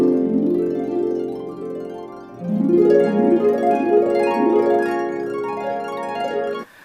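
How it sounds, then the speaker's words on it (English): A harp glissando intro built from harp sound effects: rippling plucked strings sweep in rising runs, one softer cascade followed by a louder, fuller set of repeated upward sweeps, clear and alone without voices. "I was able to recreate that sort of glissando intro"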